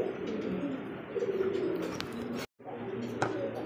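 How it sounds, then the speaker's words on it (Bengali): Pair of red Lahori pigeons cooing nearby, soft repeated throaty coos mixed with a few sharp chirps, briefly cutting out midway before continuing. "দেখতেই পাচ্ছেন এখানে কিন্তু আরও এক জোড়া লাহোরি কবুতর রেড কালারের মধ্যে"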